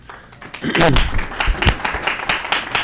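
Audience applause at a county commissioners meeting, a brief burst of clapping from a crowded room that swells and fades within a few seconds, with voices mixed in.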